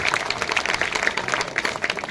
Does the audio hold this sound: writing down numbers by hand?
no